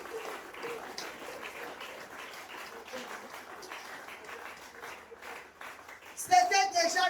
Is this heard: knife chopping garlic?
no